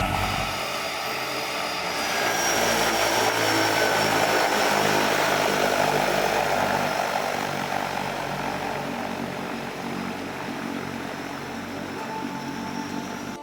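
A seaplane's propeller engine drones steadily at the Polson seaplane ramp in Montana, a broad continuous roar that swells in the middle and then eases slightly, with no voices.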